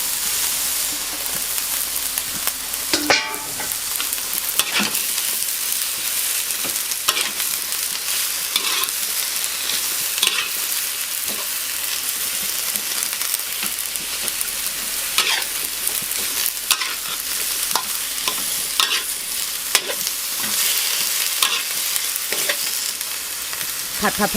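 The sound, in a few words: stir-frying bok choy in a pan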